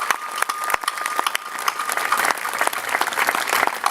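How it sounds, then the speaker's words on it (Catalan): Applause for the dancers at the close of an outdoor concert in a park, dense continuous clapping from a crowd that holds steady throughout without speech. "demanem això, un fort aplaudiment als ballaors i ballaores que han realçat este concert"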